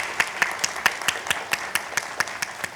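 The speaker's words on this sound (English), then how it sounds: "Please join me in a round of applause for these amazing people." Applause from an audience at a summer student data showcase, heard as regular, fairly sparse claps of moderate loudness with a light crowd wash underneath and no talking.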